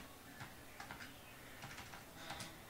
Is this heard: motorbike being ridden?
no